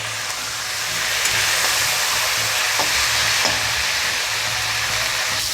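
Pumpkin pieces with turmeric and salt fry in a pan, giving a loud, steady close-up sizzle that swells after the first second and continues evenly, with a few faint stirring taps.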